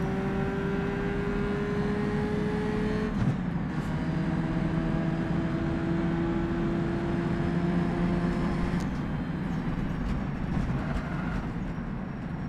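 In rFactor 2, a historic race car with a tiny 1.1-litre engine whines thinly beneath heavy wind rush, its pitch climbing, dropping at a shift just after three seconds, then rising again.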